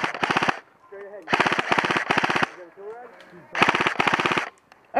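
Close bursts of rapid airsoft gunfire during an outdoor airsoft game come in three loud volleys of fast, rattling shots, with brief faint voices heard between them.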